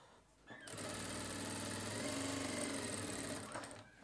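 Close and steady, an electric sewing machine runs fast for about three seconds as it stitches a shirt collar, starting and stopping abruptly.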